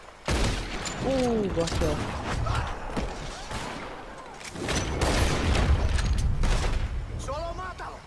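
Gunfire crackles in Red Dead Redemption 2, with repeated loud shots and booming volleys spread across the scene as someone talks over the fighting.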